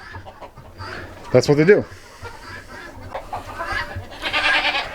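A free-range flock of farm chickens clucks and squawks nearby, with one loud burst of cackling and softer clucks around it, while a person talks over the birds.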